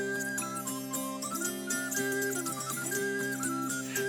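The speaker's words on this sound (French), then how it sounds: "Voilà le son de l'épinette pour refermer cette émission." An épinette des Vosges, a Vosges zither, plays a bright plucked melody with ringing, shimmering strings, steady and moderately loud throughout, with no voices.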